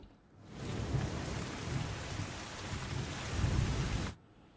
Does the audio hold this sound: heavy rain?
yes